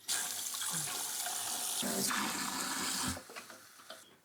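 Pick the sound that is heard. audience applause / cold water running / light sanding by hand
cold water running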